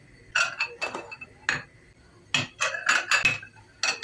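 Plates and dishes knock and clink in a home kitchen while being set out, a run of close, sharp ceramic and cutlery clatters in irregular bursts with quiet gaps between.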